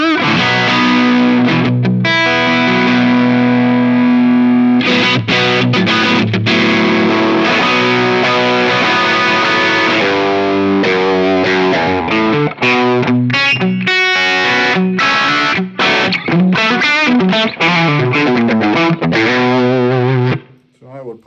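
Electric guitar played through a Nobels ODR-Mini 2 overdrive pedal, loud and continuous with sustained distorted chords and faster picked passages, a mid-scooped tone, stopping abruptly at the end.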